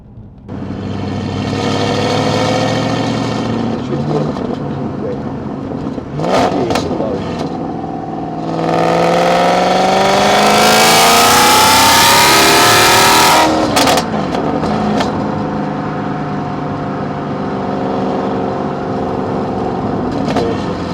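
A 2006 Maserati Quattroporte Sport GT with a 4.2-litre engine and sequential gearbox revs hard, its exhaust rising and falling through several loud blips before a long sustained high-rev howl, then settling back to idle.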